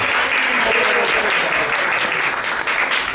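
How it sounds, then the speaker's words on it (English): Applause from an audience welcoming visitors at a home gathering, dense steady clapping throughout, close and loud. "Please give them a big round of applause."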